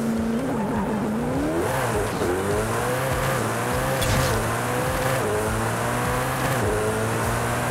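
A Koenigsegg Jesko in Forza Horizon 5, launching hard from launch control: loud, close engine revs climb repeatedly through quick gear changes, with a steady high whine and tire noise underneath.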